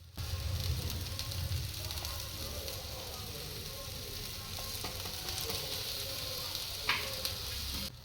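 Thick onion ring slices sizzle on an oiled pan for a ring omelette, giving a steady, soft hiss of frying that runs throughout, with a faint tick or two near the end.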